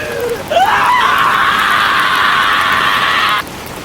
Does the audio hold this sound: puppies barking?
no